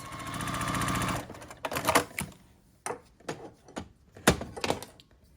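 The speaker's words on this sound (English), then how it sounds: "we'll sew right across this long side" A domestic sewing machine runs steadily along a long seam on a quilt block, a fast even chatter for about a second, followed by a few scattered knocks and handling thumps.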